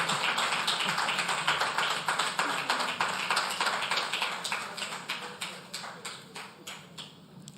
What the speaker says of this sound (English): Then clap for me.